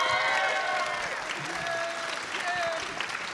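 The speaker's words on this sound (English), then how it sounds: "Can we have a round of applause for our panelists" A convention panel audience gives a sustained round of applause and cheering, broad and steady throughout, with a few voices and whoops rising over the dense clapping.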